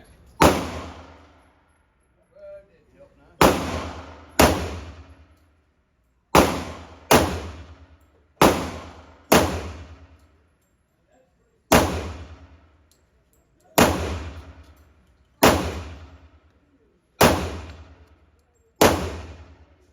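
Eleven sharp pistol shots from a Kimber fitted with a red-dot optic ring out at an outdoor shooting range, each crack decaying quickly. They fire in irregular pairs and singles with short gaps between, loud and close, no talking.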